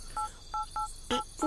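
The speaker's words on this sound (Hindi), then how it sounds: "फोन लगा तो रहा हूँ" Several touch-tone beeps as a phone number is dialed on a telephone, short evenly spaced tones in an irregular rhythm, close and clear with no talking over them.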